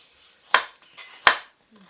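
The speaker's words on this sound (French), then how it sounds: "Et on va couper l'ail." A knife chops garlic on a cutting board in a home kitchen, three sharp separate knocks about three-quarters of a second apart, close and clear with brief soft rustles between them.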